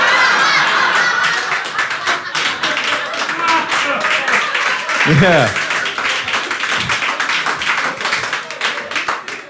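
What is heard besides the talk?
audience applauding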